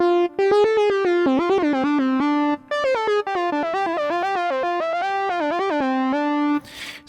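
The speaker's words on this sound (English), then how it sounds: "if it wasn't in legato mode, it would keep re-triggering it, and we get this sound." Hybrid synth lead playing a fast melodic line with each note sharply re-triggered rather than legato, bright and buzzy, continuous for several seconds with brief gaps.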